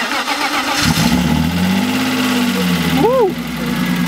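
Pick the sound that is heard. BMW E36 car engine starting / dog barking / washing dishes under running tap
BMW E36 car engine starting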